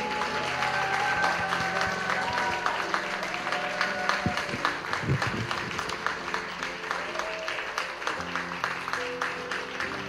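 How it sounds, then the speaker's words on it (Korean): Church congregation applauding newly appointed leaders at a festival worship service, steady clapping from a crowd under soft background music, fairly distant and moderate in level. "축하와 격려의 박수 부탁드립니다"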